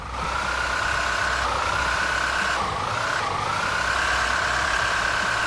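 A Toyota Fortuner with a stock engine strains in the off-road game MudRunner while climbing a muddy mountain track, a loud continuous drone whose pitch dips briefly and climbs again, with no talk.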